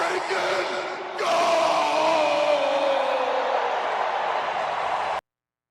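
A stadium crowd at an NHL Stadium Series game between the Boston Bruins and Tampa Bay Lightning roars in a dense, sustained wash of cheering. A PA announcer's voice and a rising tone ride over the steady din.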